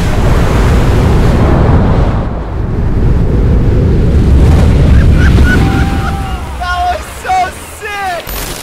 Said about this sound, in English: Next wave is mental. Waves are firing.